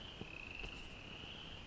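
Frogs calling near a creek in the woods during a shed-hunting outing, a faint steady chorus with a continuous high insect-like trill and soft croaks in the distance, no voices.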